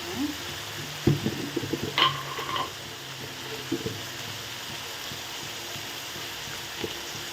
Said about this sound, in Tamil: கொஞ்சம் போதும் தக்காளி பழம் நல்லா வதங்குறதுக்காக தான்